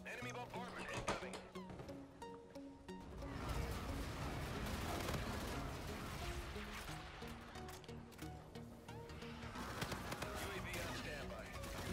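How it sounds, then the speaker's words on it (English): Enemy bombardment in Call of Duty Infinite Warfare: dense, continuous blasts and gunfire crowd the whole stretch, mixed with game music and voices, with heavier bursts near the middle. "Enemy bombardment incoming"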